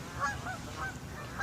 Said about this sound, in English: we are getting the wonderful, painfully loud, honking Canadian geese